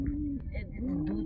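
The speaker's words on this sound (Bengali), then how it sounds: "এখানে একটা লাল পায়রা" A red pigeon gives a short soft coo, a close, low warbling call that rises and falls twice in quick succession.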